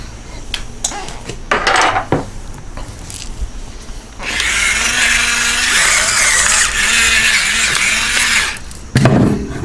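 Meat rolled around in melted butter inside a pressure cooker pot, starting with a few clanks and scrapes, then a loud, steady sizzle that carries on for several seconds before a final clatter.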